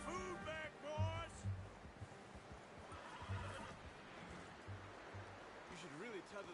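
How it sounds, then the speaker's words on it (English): Horse neighs and whinnies in the open-world video game Red Dead Redemption 2, several whinnies in the first seconds and again near the end, over soft ambient outdoor game sound while a character talks. "You should really tether that horse, Arthur."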